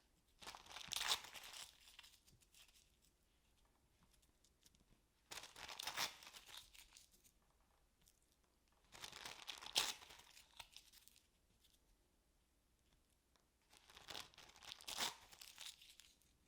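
Tissue paper squares crumpled into balls for a paper poinsettia craft: four separate bursts of crinkling and rustling, close and fairly loud, with quiet gaps between them.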